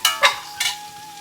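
Ginger garlic paste sautés in a pan, heard as a continuous close sizzle broken by three quick scraping stirs in the first moments.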